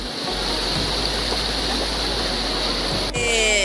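Water rushes steadily at Kappimala Waterfalls in Alakode, Kannur, a close, even roar of the falling stream that shifts briefly near the end.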